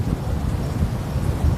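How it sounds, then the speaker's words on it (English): Wind buffets a microphone outdoors at a Florida rocket launch viewing spot, a steady low roaring rumble filling the whole stretch with no voices. "Man, it's so windy."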